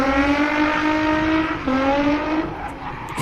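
A drift car at a British Drift Championships qualifying round at Teesside holds a steady, rasping engine note bouncing off the rev limiter, loud and continuous with a brief stutter midway, no speech.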